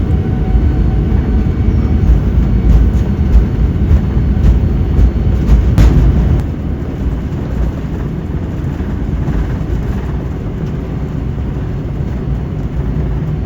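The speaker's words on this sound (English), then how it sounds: "So my wife did manage to film the takeoff from her seat across the aisle through the window." British Airways airliner taking off, heard from inside the cabin: a loud, deep, steady engine roar with rumbling, easing slightly partway through, with no talking.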